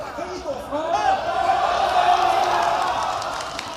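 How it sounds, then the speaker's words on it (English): A live esports crowd at a $50,000 LingYuan Cup semifinal match roars and cheers, a dense sustained swell of many voices with whoops rising and holding for several seconds. "the crowd is going crazy"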